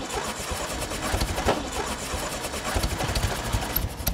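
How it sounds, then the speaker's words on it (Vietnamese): A car engine turns over and catches, a rough, pulsing mechanical rumble close by that settles into an uneven idle. "Nổ máy đi chứ."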